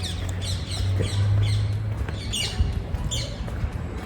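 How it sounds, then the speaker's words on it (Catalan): Invasive green monk parakeets, the Argentine parrot species, give repeated harsh squawks and chirps at moderate distance over a steady low outdoor rumble. "aquestes que se senten de tant en tant, que són aquests lloros de color verd"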